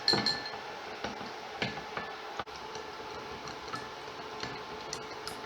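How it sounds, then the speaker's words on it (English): Eggs with sugar and fish sauce are whisked in a bowl for Thai deep-fried eggs, producing quick, fairly regular ticking clicks of the whisk against the bowl, close and moderately loud, with no talking. "Whisk."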